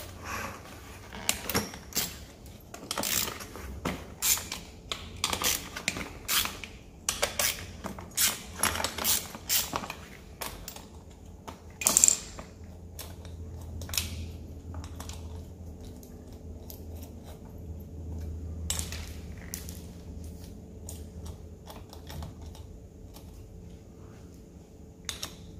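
A wrench removes four 10 mm nuts from a Toyota 1KZ engine fan hub, giving quiet, irregular clicks and metallic taps. Each tap is brief, and one sharper knock sounds midway against a low background hum.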